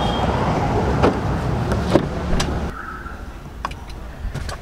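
A faulty power window on a Ford Freestyle runs inside the car, giving a short whirring motor hum amid cabin noise and scattered clicks and knocks, then quieter interior sound.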